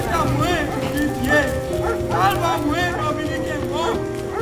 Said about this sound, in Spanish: le pareció oír tropel de caballos